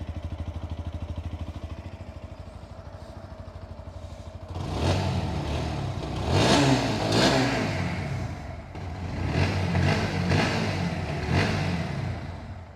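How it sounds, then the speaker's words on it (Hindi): A Bajaj Pulsar 125cc motorcycle with an underbelly exhaust idles with a steady putter, then revs up in two loud, close bursts that rise and fall. "सो अभी रेफ करते हैं देन आप लोगों को एग्जॉस्ट नोट चेकआउट करवाता हूँ।"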